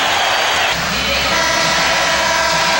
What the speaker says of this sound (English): Crowd giving the Lakers a standing ovation.